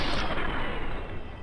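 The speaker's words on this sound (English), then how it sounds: "Let's go with a plasma rifle again." Plasma rifle fire in Fallout: New Vegas, a dense, loud, continuous burst of energy-weapon discharge filling the whole moment without pauses.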